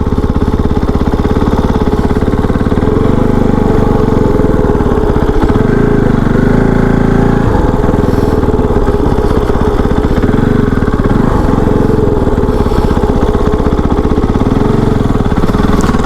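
A KOVE 450 Rally motorcycle engine idles and runs at low revs during a tight full-lock turn, a close, continuous mid-pitched thrum with slight shifts in pitch and no voices.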